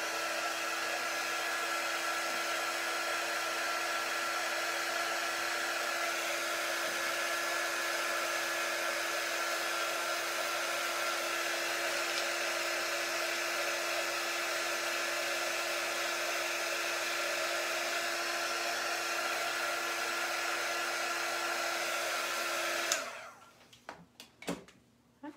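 A hair dryer blows at a steady, loud whine for over twenty seconds while drying glued wooden mini Christmas ornaments, then clicks off, leaving faint handling sounds.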